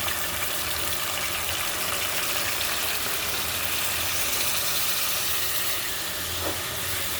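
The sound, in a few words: hot water poured into pangas fish curry pan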